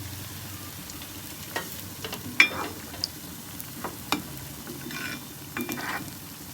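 Small soft palm-fruit pitha cakes fry in a pan with a faint steady sizzle, broken by scattered clinks and scrapes as they are turned, and no talking.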